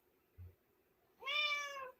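A single clear, drawn-out meow from a cat indoors, close and fairly loud, preceded by a soft low thump, with near silence around it.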